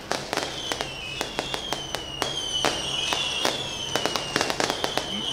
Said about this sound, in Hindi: शोर आतिशबाजी का खासा ज़्यादा